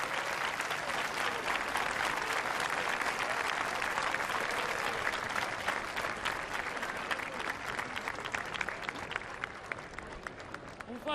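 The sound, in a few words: applause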